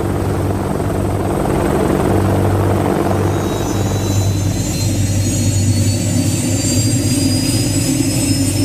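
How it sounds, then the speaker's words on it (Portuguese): A Lynx helicopter flies by with a steady, heavy rotor thrum and a turbine whine that climbs in pitch, loud and unbroken throughout. "O Lynx é o helicóptero mais rápido do mundo."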